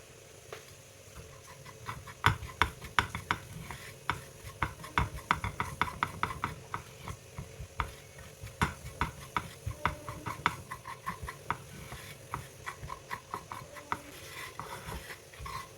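Chili powder being roasted and stirred in a pan while making prawn curry, a steady run of close, quick scraping and tapping strokes of a spoon against the pan over a low hiss.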